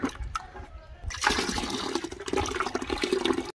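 Water is poured from a bucket onto potted plants at home, a close gush and splash with uneven surges, no talk.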